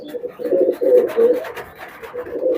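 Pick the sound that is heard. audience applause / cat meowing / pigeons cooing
pigeons cooing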